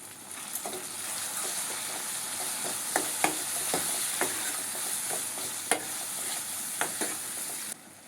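Tomatoes sautéing in oil with turmeric, salt and asafoetida in a pan, a steady sizzle punctuated by repeated sharp scrapes and clacks of a spoon stirring, close and fairly loud with no talking.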